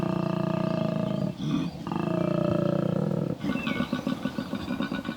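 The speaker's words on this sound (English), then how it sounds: "a koala's bellow can announce his presence up to 1 kilometre away" A male koala bellows in a deep, rough, snoring-and-belching call that rises and falls in long pulsing phrases, loud and close with no other sounds.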